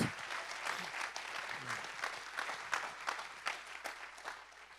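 A church congregation applauds at a sermon, a continuous spread of many hands clapping with soft rhythmic peaks, fairly faint and distant, with no one speaking over it.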